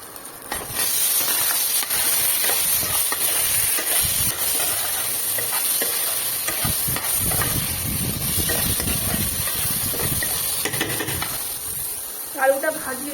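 Potatoes frying in oil, cooked before a rui fish curry, make a constant loud steam-like hiss and sizzle that runs nearly the whole time, with faint clatter near the end.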